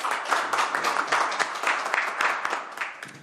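A room of people at a Ulsan city council environment and welfare committee meeting gives dense, sustained applause for a retiring official, steady and fairly close throughout.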